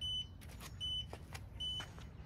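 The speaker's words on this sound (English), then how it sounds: "When you press one of those buttons, that respective turn signal comes on, and it actually beeps to notify people behind you that you are turning." A Yadea ElitePrime electric scooter's turn signal beeps three times at an even pace, each short, high, thin tone sounding close over a low rumble, with no talking.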